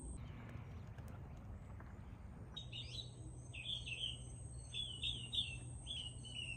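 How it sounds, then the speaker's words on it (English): Birds chirp and sing in a morning setting, bright repeated tweets arriving from about the midpoint onward over a low steady rumble, moderately distant and fairly faint. "listen to the birds sing"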